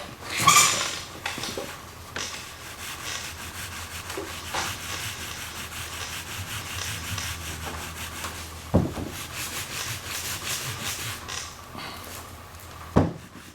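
A nylon brush scrubs at a part during a steering assist rebuild on a 1964 Ford Galaxie, giving a close, steady rough rubbing with a few louder knocks, no voices.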